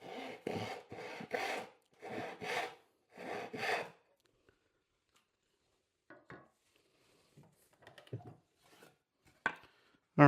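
Hand sawing through waste wood while cutting dovetails for a drawer box, four rhythmic rasping strokes that then stop, followed by a few quieter scattered knocks and scrapes. No one speaks.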